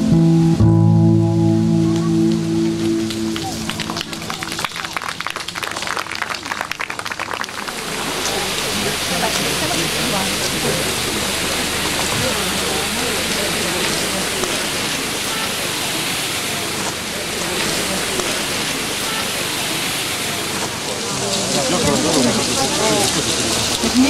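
A loud, steady rush of falling water roars continuously, with voices and a brief tonal sound near the start before the torrent dominates.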